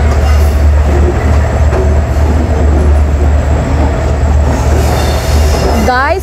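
An express train running from Colombo to Trincomalee rumbles loudly and continuously from on board, with a constant low drone, rail noise and a wheel squeal near the end.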